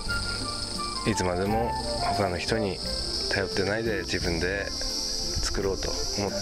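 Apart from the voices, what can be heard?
cicadas and insects chirping in summer farm fields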